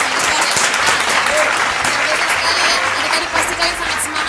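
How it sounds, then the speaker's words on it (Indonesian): Audience applause at an Indonesian police academy (AKPOL) cadet motivational event, dense loud clapping from a crowd sustained throughout, with a voice faintly under it. "Tepuk tangan dulu dong untuk kakak-kakak kita yang luar biasa ini."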